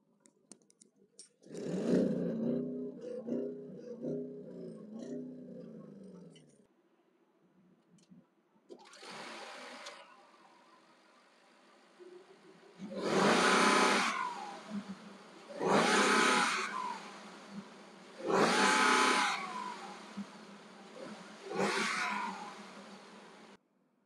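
A 2022 Audi S8 engine revs repeatedly against its soft limiter, which holds it near 4,000 rpm: a burbling idle first, then several loud, close blips in a steady rhythm with short pauses between them, heard alone without talk.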